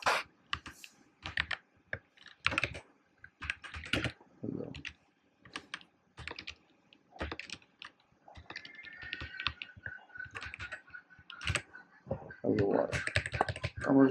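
Bursts of clattering keystrokes on a computer keyboard while writing Python code, irregular clusters of close taps separated by short pauses, with a voice talking intermittently over them.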